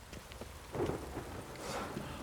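Rain falling in the video game The Witcher 3: Wild Hunt, a soft steady patter with faint rumbles, fairly quiet and continuous with no talking.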